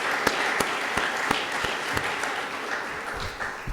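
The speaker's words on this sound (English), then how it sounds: "Let's give our men and women to give them a round of applause." At a city address, the audience gives a round of applause for local police officers: a steady wash of many hands clapping, with a few sharp individual claps standing out close by.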